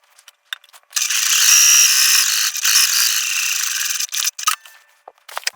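A sewing machine stitches along the top hem of a tote bag: a few light clicks, then a sustained whirring run of about three seconds with a brief pause, followed by scattered handling taps.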